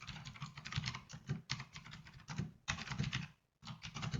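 Quick keystrokes on a computer keyboard come in short bursts separated by brief pauses, close and fairly quiet, with no talking.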